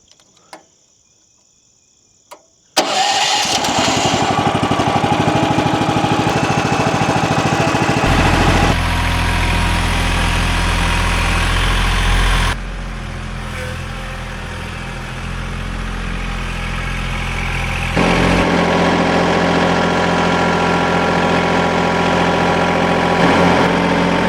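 A sawmill's engine starting up, then running and idling at a steady drone, loud and close, with its pitch and load shifting several times; a faint chirp of crickets is heard before the engine catches.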